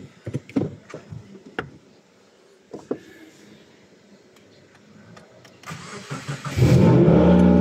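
A Subaru WRX, its AC evaporator just cleaned, cranks and fires up, a low engine roar swelling loud and steady after a few faint clicks and knocks earlier on.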